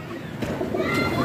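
Flying pigeons coo in a short outdoor burst during a pigeon-flying session, with soft bird calls mixed into background chatter and children's voices.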